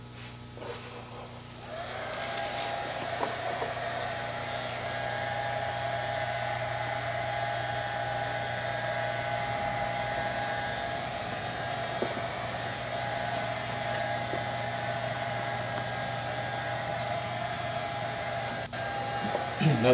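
A hair dryer blows steadily over epoxy-wetted composite fiber with a constant airy whir and high whine, running continuously at moderate volume with faint handling sounds.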